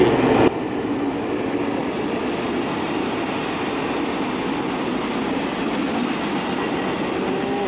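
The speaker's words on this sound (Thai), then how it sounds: "รถไฟบนบรรทุกของ ทุกตู้คอนเทนเนอร์นะครับ" A freight train loaded with containers rumbles by loudly and continuously, a steady roar of heavy container wagons rolling past close up.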